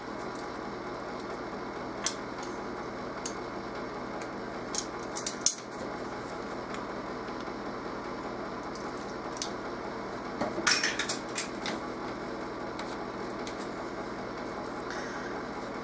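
A spoon clinks and scrapes against a bowl while brownie batter with vanilla is stirred, sharp metallic taps scattered over a steady low hum, with a busier cluster of clatter near the end.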